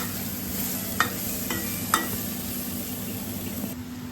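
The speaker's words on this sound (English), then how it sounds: "You can see my aubergine is getting cooked nicely" Aubergine curry sizzles in leftover oil while being stirred, a steady soft frying hiss with a few clear scraping knocks of the spoon against the pan, and no talk.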